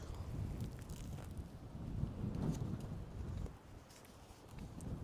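Strong wind buffets a microphone outdoors beside a lake near the Mexico border, a loud, steady low rumble that surges and eases before dropping off toward the end.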